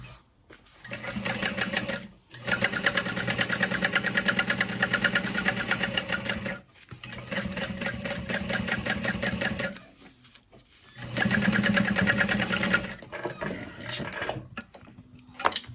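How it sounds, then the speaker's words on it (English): A sewing machine stitches around the edge of a backpack in three long, loud runs of rapid mechanical whirring, broken by short pauses. "And sew all the way around the edge."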